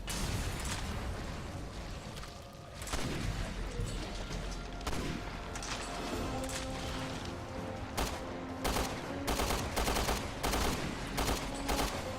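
Rapid gunfire rattles in Resident Evil: Revelations 2, a steady stream of shots that builds into quick regular bursts near the end over constant combat noise.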